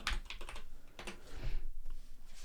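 Close, clattering keystrokes on a computer keyboard, typed in quick irregular bursts while entering a sort formula in an Excel spreadsheet, with no one talking.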